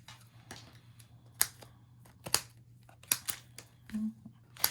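Scissors snip several times at uneven intervals, each cut a sharp close click, over a steady low hum.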